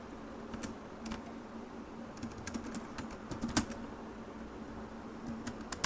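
Typing on a computer keyboard while writing Django code, a steady patter of close key clicks with occasional sharper taps, heard alone with no talking.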